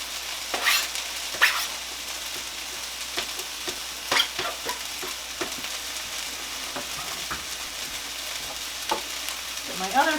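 Garlic sizzles in a hot frying pan alongside chopped cilantro for a Southwestern spaghetti squash bowl, a steady close crackle broken by occasional louder stirring scrapes, with no talking.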